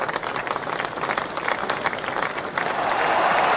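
A packed cricket crowd at the MCC versus Rest of the World bicentenary one-day match roars and applauds as Tamim Iqbal falls to Saeed Ajmal, a dense continuous wash of cheering that swells louder toward the end.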